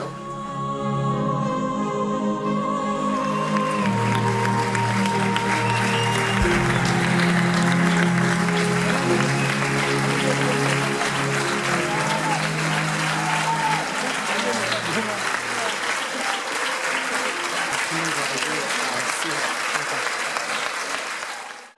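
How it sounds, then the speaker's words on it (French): Audience applause at a presentation of Christian Lacroix's work with Le Grenier, a workshop where women learn a trade; sustained clapping throughout, steady and fairly loud, with voices mixed in underneath. "D'avoir des petits applaudissements qui commençaient comme ça"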